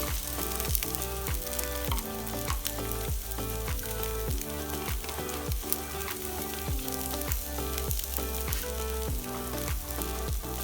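Garlic and spring onions fry in oil for gallo pinto. A loud, close sizzle runs steadily while a utensil stirs and scrapes the pan in a rapid repeating rhythm, and nobody speaks.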